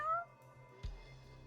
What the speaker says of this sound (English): Wait, cat. There's a cat in here somewhere.